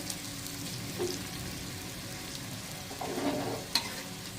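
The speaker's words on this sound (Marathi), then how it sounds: "हे बघा असं मस्त आपली सुकी अंडा फ्राय झालेली" Dry egg masala fries in a pan with a soft, continuous sizzle and a few light stirring scrapes, close and fairly quiet, no talking.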